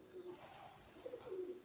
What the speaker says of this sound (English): You'll probably see there's a set of pigeons.